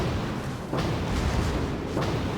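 Secondary guns of the battleship Großer Kurfürst firing in World of Warships, a couple of muffled booms rising out of a steady roar of wind and engine noise.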